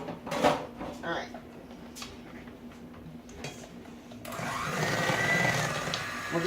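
An electric mixer whirs on steadily near the end while mixing caramel apple cheesecake filling, a close, even motor drone after a few clinks and taps, with a voice talking earlier.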